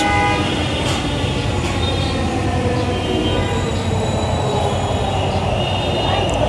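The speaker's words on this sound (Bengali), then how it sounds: "সো ফাইনালি গাইস ট্রেন চলে আসছে," A Dhaka metro rail train pulls into a station, a loud steady rumble of wheels with high squealing tones and faint horn-like notes carrying through.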